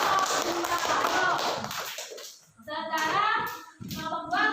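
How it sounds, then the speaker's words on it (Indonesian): A classroom of students claps for a presenting group: dense rapid applause fills the first two seconds, then fades as children's voices talk and call out over the tail. "tepuk tangan untuk kelompok ayo"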